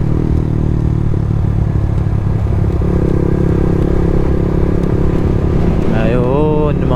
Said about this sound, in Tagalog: may mga motor